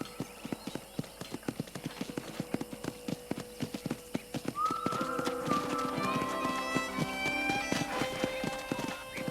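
Horse hooves clop in a steady walking rhythm at a ranch in the video game Red Dead Redemption, joined midway by layered chiming music tones; no talking.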